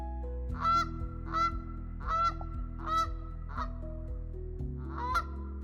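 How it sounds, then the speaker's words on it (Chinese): Canada geese honking beside a road in spring, a series of about six loud, evenly spaced nasal honks over a steady low engine-like hum. "这2天路边看到好多成双成对的加拿大鹅，春天真的来了。"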